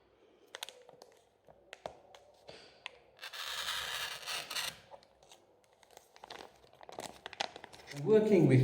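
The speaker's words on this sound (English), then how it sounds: "Thin plastic sheets or polymeric sheets used for packaging foodstuffs, for example coffee, are also suitable materials to be cut with a cutter." A rotary cutter slices through thin plastic food-packaging sheet, giving scattered crinkles, taps and a sustained rasping cut midway, with crackling handling noise and a voice speaking toward the end.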